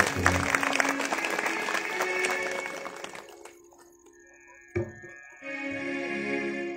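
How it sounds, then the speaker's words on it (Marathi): An audience at a religious discourse gathering in Deshwandi, Nashik claps in welcome, a dense burst of applause that fades after about three seconds, followed by a short knock and quieter tones. "आपण सर्वांनी सर्वप्रथम त्यांचं टाळ्या वाजवून स्वागत करूया."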